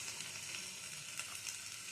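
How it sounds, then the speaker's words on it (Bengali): Boiled elephant foot yam fries in a pan, giving a faint, steady sizzle with a few soft stirring scrapes over a short stretch. "সেদ্ধ করা ওলটা দিয়েও একটু ভেজে নেব"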